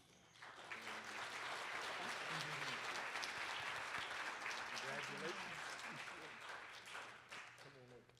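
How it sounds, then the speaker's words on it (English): A crowd applauds award winners at an award ceremony, sustained clapping from a large room building quickly and holding steady for several seconds before tapering, with faint voices murmuring underneath. "So let's give another round of applause to all of our award winners, can we?"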